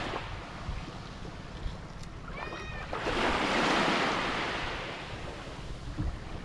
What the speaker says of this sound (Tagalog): Nagtatalunan na yung mga aluyo,